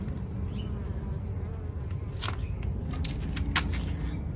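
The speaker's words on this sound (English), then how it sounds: "Hello, bee." A bee buzzes steadily up close in a garden on a hot day, a continuous droning hum with a few brief sharp clicks or rustles partway through, no talking.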